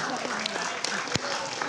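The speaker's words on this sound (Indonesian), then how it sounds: "Mari sama-sama kita berikan tepuk tangan yang meriah untuk kita semua." Applause from a political gathering audience, a steady patter of clapping with scattered sharper claps and some background voices mixed in.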